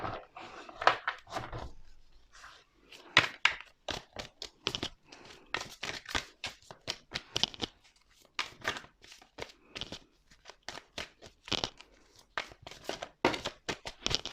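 Tarot cards are shuffled and drawn by hand, a long run of crisp papery flicks, riffles and crinkles in irregular bursts with short pauses, close and clear with no talk.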